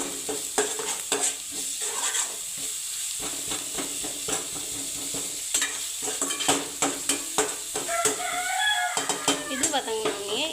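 Onion sautéing with ginger and garlic for a mutton kola urundai kuzhambu, giving a steady sizzle and hiss. Repeated spatula scrapes and clicks sound against the pan, close and fairly loud.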